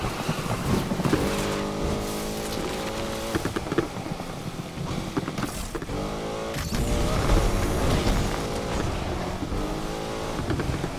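A powerful car in Need for Speed Unbound revs hard with a rising and falling engine whine through corners, gear changes shifting the pitch, and faint tire squeal, loud and continuous throughout.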